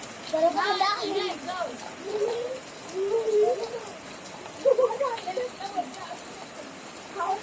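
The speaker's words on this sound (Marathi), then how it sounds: "खूप मोठा पाऊस आला बघा." Heavy rain pouring down over a Konkan village farm, a steady soft hiss of falling water with people and someone talking over it.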